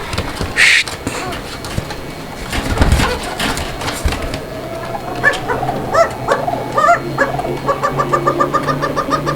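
Fancy pigeons kept by a pigeon seller coo in low, throaty rolls among other birds, while people talk nearby over a busy background.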